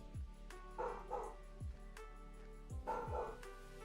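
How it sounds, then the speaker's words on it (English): A pet dog woofs in the background, a few short barks heard faintly over steady background music. "I don't actually know if you can hear my dog woofing"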